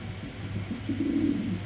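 Pigeons coo in a low, rolling murmur close by, the soft throaty calls swelling toward the end of a brief stretch with no voices over them.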